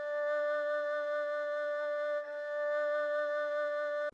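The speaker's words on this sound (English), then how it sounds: "After that, we added erhu." A dry erhu, the Chinese bowed string instrument, holds one steady sustained note for about four seconds, with a brief dip midway and a quick cutoff at the end, played alone.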